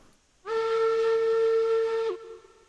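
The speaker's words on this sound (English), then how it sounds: "We have a confident whistle." A steam locomotive whistle in the train game Railroads Online, hauling six cars of iron ore, sounds one loud, steady, tonal blast of about a second and a half, alone and without talk.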